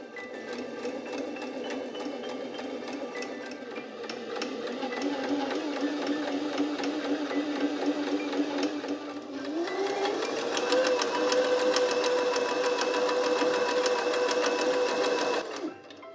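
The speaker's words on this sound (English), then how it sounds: "sewing is one of the hobbies that gives the most satisfying background sounds" A sewing machine stitches fabric hems in a close, continuous mechanical whir with a rapid needle rhythm, its pitch stepping up partway through as the speed increases, then stopping abruptly at the end.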